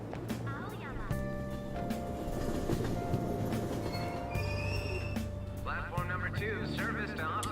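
Train sounds from the Persona 5 video game: a steady mechanical rumble with sustained tonal hum and metallic rattles, running continuously while voices speak over it.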